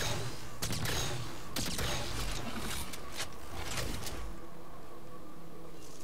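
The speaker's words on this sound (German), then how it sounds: "das Ding schießt immer 3 Schüsse gleichzeitig ab" Loud bursts of three-round burst-fire gunfire in Halo 4 crack out in quick clusters over a dense, noisy background, fading to a steadier hum at the end.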